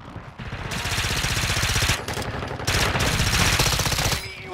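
Sustained rapid automatic gunfire in a video game, a dense rattling burst that briefly pauses and then resumes, loud and close, with no talk over it.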